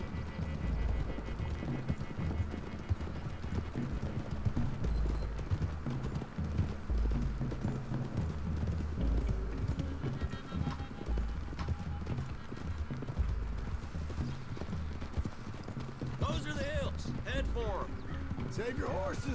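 Rapid hoofbeats of several galloping horses pound steadily under game music in Red Dead Redemption 2, with a horse whinnying briefly near the end.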